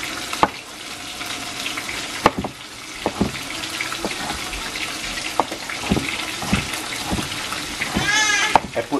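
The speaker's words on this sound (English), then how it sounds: "Let's put this first, let it go and saute a little bit." Carrots, green onions, onions and tomatoes sauté in a pot for Jamaican brown stew fish, a steady close sizzle broken by sharp clanks of utensils on the pot, with a person talking over it.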